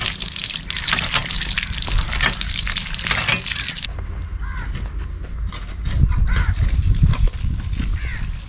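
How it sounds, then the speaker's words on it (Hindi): Fresh organic sweet limes (mosambi) being washed by hand under running water in a village kitchen, a steady splashing gush that shifts midway to sloshing, stirring water with a deeper, fuller wash near the end. "ये जी मौसमी है फ्रेश ऑर्गेनिक मौसमी अभी इनको हम धोएंगे"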